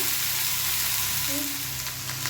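Potatoes fry lightly in hot oil, a dense steady sizzle close to the pan, with a faint tap or two near the end and no talking.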